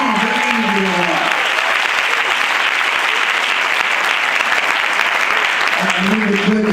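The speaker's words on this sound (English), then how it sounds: "Give yourselves a round of applause." Audience at a live motivational speaking event breaking into sustained, loud applause for several seconds, with a voice speaking over it at the start and end.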